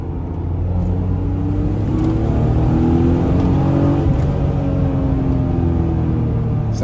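A BMW Z3 roadster over 20 years old revs hard while accelerating, its engine note climbing steadily in a loud, continuous close-up drone with no talk.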